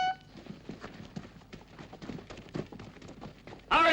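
Horses galloping on hard ground in a Western action scene, a rapid uneven clatter of hooves at moderate distance, cut off by a loud burst at the end.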